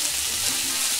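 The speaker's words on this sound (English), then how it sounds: "You're going to have to talk over the noisy asparagus." Asparagus pan roasting over high heat gives a steady, loud, broadband sizzle and crackle that runs unbroken for about a second, with no voices.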